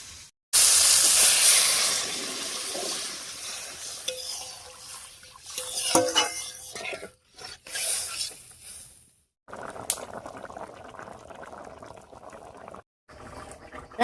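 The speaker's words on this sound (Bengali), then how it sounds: "এবারে ঝোলের জন্য জল দেব" Water poured into a simmering pan of snakehead fish curry: a loud hissing burst of steam settles into bubbling, with a clatter and the pour easing off.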